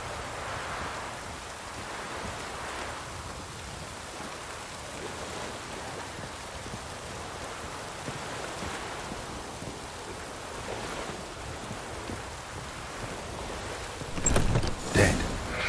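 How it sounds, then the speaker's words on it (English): Steady rain falls in The Witcher 3, a continuous even hiss that fills the whole stretch at moderate level, with a brief louder rustle near the end. "Looks like rain."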